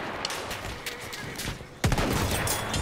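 Battlefield 1 sniper rifle shots ring out as sharp, moderately distant cracks with a sudden louder report near the end, set against busy battlefield ambience.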